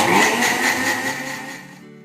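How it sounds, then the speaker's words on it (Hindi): An electric blender grinds sugar in a kitchen with a loud, steady, high-pitched whirring roar that runs close and continuous, then cuts off abruptly just before the end. "तो हम सबसे पहले अपनी जो शुगर है उसको हम ब्लेंड कर लेते हैं, पीस लेते हैं"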